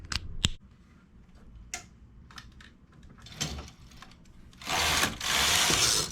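A knitting machine carriage knits short rows for leaves, with a few sharp clicks and clacks followed by a loud sliding rush as the carriage sweeps across the needle bed near the end.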